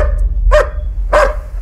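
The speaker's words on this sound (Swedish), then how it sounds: "Hunden börjar skälla." A dog gives two loud, close barks about half a second apart over a low background rumble.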